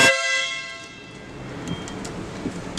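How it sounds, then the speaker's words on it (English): A correctly wired Stebel Compact car horn blasts one short, loud, clear tone that cuts off quickly, followed by quiet background rumble. "So the correct way the horn will sound"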